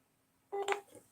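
A short burst of telephone keypad tones, a couple of quick electronic beeps close by after a brief quiet moment, with no talking.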